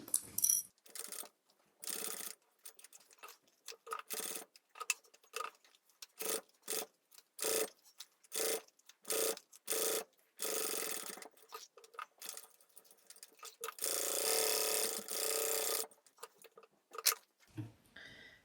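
A sewing machine top stitches around a handbag in a series of short, sharp whirring bursts separated by brief silences, with one longer stretch of stitching near the end, close and clear with no voices.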